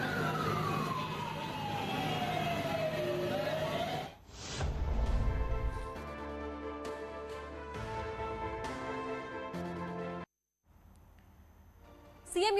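A fire brigade engine's siren wails with a falling sweep at a blaze in a sanitary store in Hapur, then gives way to mixed street and vehicle noise.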